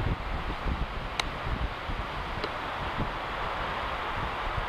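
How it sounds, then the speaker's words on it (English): Stiff outdoor wind buffets the microphone in a steady, rumbling rush of broadband noise with low gusty thumps, constant throughout with no voices. "Stiff little wind there"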